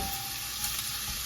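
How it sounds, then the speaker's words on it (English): Chicken pieces for tacos sizzle lightly in a hot pan, a steady close crackling hiss with no pauses and no talk. "It's a light sizzle, that'll do."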